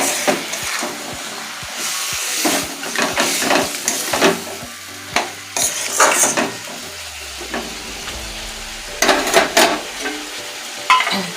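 Food stirred in a pan over heat, a spoon scraping and knocking in an irregular rhythm over a steady sizzle, with a low rumbling hum partway through; no talking.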